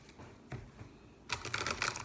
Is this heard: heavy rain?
no